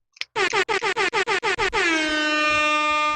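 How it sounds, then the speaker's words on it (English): Air horn sound effect: a short click, then about eight rapid loud blasts in quick rhythm, ending in one sustained brassy blare that holds for over a second, with no voices. "Definitely got to do a fucking air horn for that."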